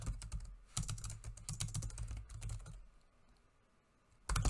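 Rapid keystrokes on a computer keyboard while code is written, dense bursts of clicking with a quieter pause before typing resumes near the end.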